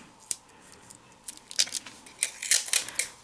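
Tape being pulled and torn to hold down paper for die-cutting, sounding as a series of sharp crackling rips and peels that grow louder and busier toward the end, close and with no voices.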